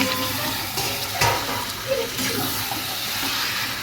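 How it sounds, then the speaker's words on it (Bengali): Meat fried with spices for biryani sizzles steadily in a pan, a dense, continuous crackle with occasional stirring scrapes, close by. "আমি মাংসটা ভালো করে কষে নিই মশলা দিয়ে"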